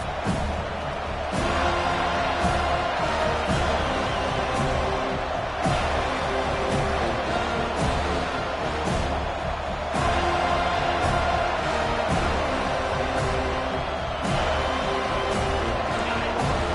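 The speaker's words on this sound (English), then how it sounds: "This crowd bringing an ear-splitting welcome to their visitors." A college football stadium crowd roars continuously as the visiting team arrives, a loud sustained din with a few sharp surges and thumps rising out of it over about seventeen seconds.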